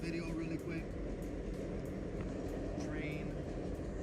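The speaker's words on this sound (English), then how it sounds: "Train." A train passes at a distance, heard as a faint, steady low rumble with soft rail noise throughout and scattered high clicks.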